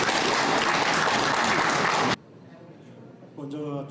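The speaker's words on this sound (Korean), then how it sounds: "큰 박수 한번 부탁드리겠습니다" At the opening ceremony of an art exhibition in a concert hall, an audience claps loudly and steadily for about two seconds. The clapping then stops abruptly and a voice starts talking.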